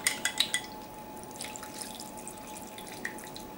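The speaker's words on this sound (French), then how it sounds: "on va donc mettre le bouillon de volaille" Chicken broth poured into a roasting dish around a chicken roast: a few quick splashy drips and trickles up close at first, then fainter liquid patter and a soft drip.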